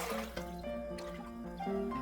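Water pours into a cooking pot for a traditional ginger and cinnamon drink, a bright, resonant filling sound with rising tonal ringing as the level climbs, close and continuous for a couple of seconds.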